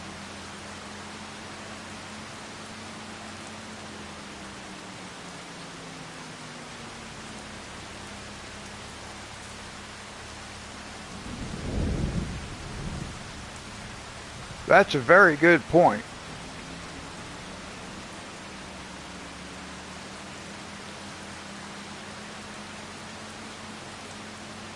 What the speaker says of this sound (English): As soon as he got done, it started raining.